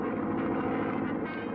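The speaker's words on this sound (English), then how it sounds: "I didn't know you knew how to fly a plane, Mo" Steady propeller drone of a small airplane in flight in a cartoon, a constant loud engine hum with no talking.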